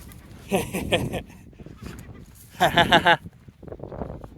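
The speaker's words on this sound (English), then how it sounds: "Don't be laughing at me, seagull." A seagull calling near an abandoned boat graveyard, giving bursts of rapid cackling cries that sound like laughter, two clear loud bouts with quieter calls and breathy noise between.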